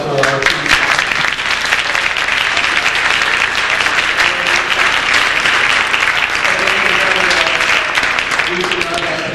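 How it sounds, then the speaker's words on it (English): Loud, dense applause from an audience at a case-competition closing ceremony, many hands clapping together in a sustained roar, with a voice briefly audible near the start. "we have another round of applause for our team."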